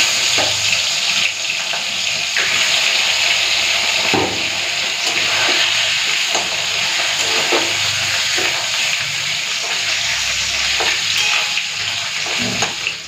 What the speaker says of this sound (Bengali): এখন ভেজে নেব রুই মাছের লেজ